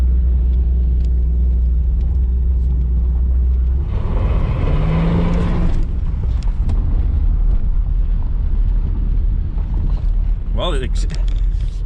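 Third-generation car engine cranking and starting at the roadside, a loud close low rumble that rises into revving bursts, with a voice talking briefly near the end.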